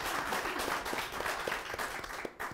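An audience at a Russian youth political debate final applauds after a speaker finishes, producing a steady, dense wash of clapping at moderate volume that holds for the full stretch and dips only briefly near the end.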